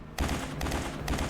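Plasma cannon fire in the space game Starbase, a loud burst of rapid repeated blasts starting after a brief quiet moment and continuing with three rhythmic pulses.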